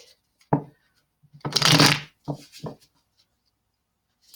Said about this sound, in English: All right, so let's shuffle up these real quick.